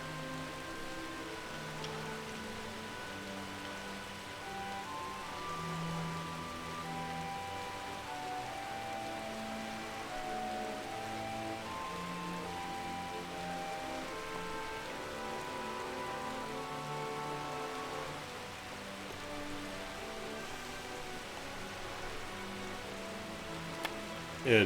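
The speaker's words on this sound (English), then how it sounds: "Just getting a little bit of rain." Rain at sea in the sailing game Uncharted Waters Online, a steady patter of drops falling on surfaces, with soft melodic game music playing underneath throughout.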